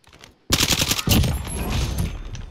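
Video game gunfire bursting in after a brief quiet moment, a dense, loud rattle of rapid automatic shots layered with more firing for a couple of seconds, with no speech.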